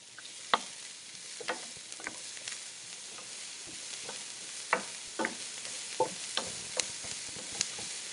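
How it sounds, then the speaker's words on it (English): Onion and mushroom sauté in olive oil for a reindeer stroganoff, a quiet, steady sizzle with scattered spatula scrapes and taps against the pan, close and without talk. "So olive oil. I'm going to put the onion. Saute that a little bit"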